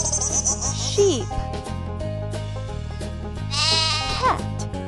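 Sheep bleating over a steady, bouncy musical backing, with a couple of wavering bleats rising above the tune, moderately loud and close.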